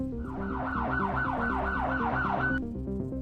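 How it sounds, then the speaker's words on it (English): A police siren sounds in the Batman Unlimited: Gotham City's Most Wanted video game, rising and falling steadily in a repeating wail over a low engine hum before it cuts off sharply. "what's that sound of sirens in the distance?"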